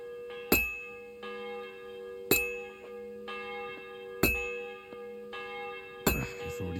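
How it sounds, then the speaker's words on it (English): A church bell tolls slowly in Kingdom Come: Deliverance II, four loud ringing strikes about two seconds apart, each followed by a lingering metallic hum and a softer secondary chime, ending in a clattering clang. "The bell's ringing for Hans the 5th time."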